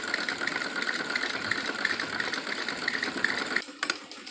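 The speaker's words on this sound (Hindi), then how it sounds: "बेल्ट की उसके साथ मिलाकर सिलाई लगाते हुए चलेंगे इस तरीके से" A sewing machine runs steadily, stitching the belt onto a salwar sewn from warm winter fabric, a close, continuous whirring rattle that stops abruptly near the end, leaving a few faint clicks.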